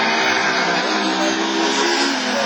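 Rallycross cars in a division 4 heat at Mayenne accelerate hard, engines roaring loud and steady at close range, with a rough, continuous rasp throughout.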